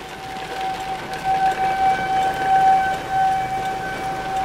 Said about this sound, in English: You can hear the siren in downtown Groveport going off.